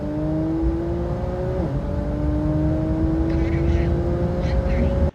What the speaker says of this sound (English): we're gonna take this car out, do 60 to 130